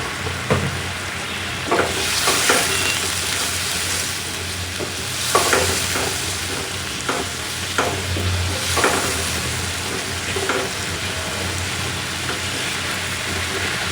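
Potatoes and vegetables sauté with turmeric and salt in a hot pan, a steady loud sizzle broken by repeated scraping stirs at irregular intervals, close up with no voices.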